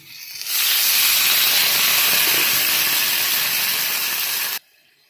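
Water poured into a hot pan of frying egg korma erupts into a loud, close, steady steaming hiss lasting several seconds before cutting off sharply.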